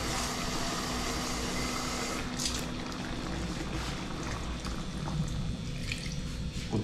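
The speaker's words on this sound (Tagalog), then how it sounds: "Idagdagan po natin ng kunting mga kaluko, tubig." Water poured steadily into a cooking pot, a continuous soft splashing and trickling, fairly quiet, with no voices.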